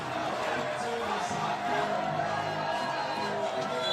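Basketball fans in an arena crowd roar and cheer steadily for Mongolia during a 3x3 Olympic qualifying game against France, a dense, continuous wall of voices with whoops rising throughout.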